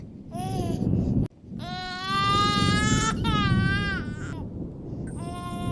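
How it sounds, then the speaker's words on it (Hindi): A small child cries in a horror story, giving loud, drawn-out wailing sobs with brief breaks over a dense, steady background drone. "किसी छोटे बच्चे के रोने की आवाज आ रही है।"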